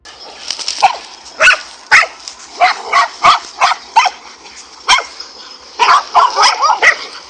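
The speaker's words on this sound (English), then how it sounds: "One dog would distract the snake, while another would pull at its tail or midsection." A pack of dogs fighting a cobra barks and yips in sharp, repeated bursts, loud and close, with whimpering between the barks.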